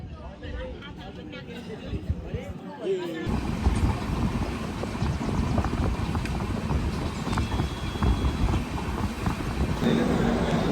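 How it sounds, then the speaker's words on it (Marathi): A passenger train rumbles steadily as it rolls into Thivim (TVM) station in Goa, with a constant heavy mechanical roar and clatter that grows louder after a quieter opening. "आता आमची ट्रेन आलेली आहे TVM स्टेशनला"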